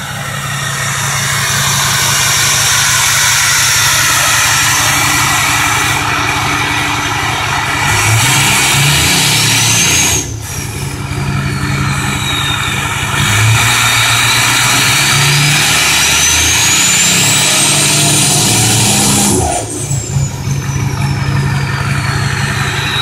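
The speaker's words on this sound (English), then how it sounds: "There we go, 5-inch exhaust, MBRP." A 6.0 Power Stroke diesel with an MBRP 5-inch turbo-back straight pipe exhaust revs repeatedly after a cold start, loud and close with a deep rumble swelling and dropping between idle and higher revs.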